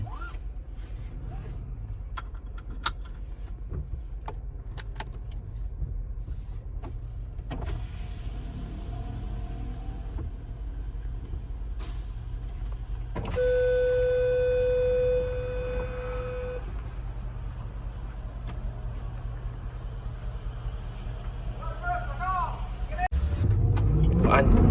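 Land Rover Defender with a 5000 cc V8 engine idling steadily with low rumble, a brief whine and tonal hum mid-way, then revving louder as it pulls away near the end, with people talking.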